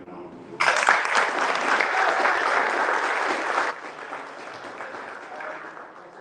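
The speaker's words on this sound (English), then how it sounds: "So everyone give Dean a round of applause." Audience applause at an under-18 men's South African ice hockey blazer award ceremony in a banquet venue in Midrand, a burst of steady clapping that lasts about three seconds and then thins into a lighter, scattered patter.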